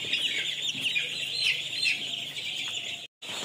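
Chickens cluck and peep steadily at close range, a continuous chatter of calls that cuts out for a brief moment near the end.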